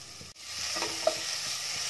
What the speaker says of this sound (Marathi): आता हे चांगलं परतून घेतलंय